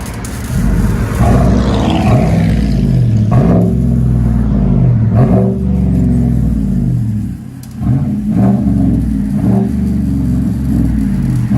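A 2015 Chevy Silverado LTZ with a 5.3L V8 and dual exhaust through Black Widow Neighbor Hater mufflers revs repeatedly, a loud, deep rumbling roar rising and falling in several blips close by.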